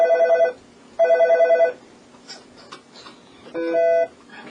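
An electronic telephone ringer trills in repeated bursts, three loud rings separated by short gaps, with faint background sound between them.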